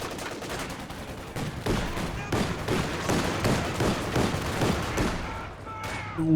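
Mortar fire in a Company of Heroes 2 2v2 battle: a dense barrage of shots and blasts rolling together in rapid bursts, busy and loud throughout.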